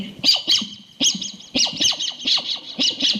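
A person's voice imitates a parrot with a run of about eight sharp, shrill squawks in quick, uneven bursts. The calls are close and loud, with no other sound around them, as in a school mimicry performance.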